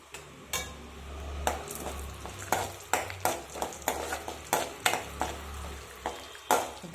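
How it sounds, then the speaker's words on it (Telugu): Urad dal, chana dal, mustard seeds, cumin and garlic frying in hot oil give a steady close sizzle, broken by sharp crackling pops and spatters about once a second, with no voices. "మినపప్పు, శనగపప్పు, ఆవాలు, జీలకర్ర, వెల్లుల్లిపాయలు వేసాను."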